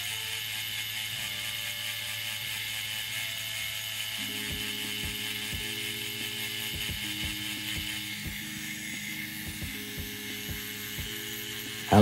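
A tattoo machine with a 15 magnum needle shades on real skin, giving a continuous close buzzing hum with a rapid mechanical rattle and shifting tonal pitch, steady throughout.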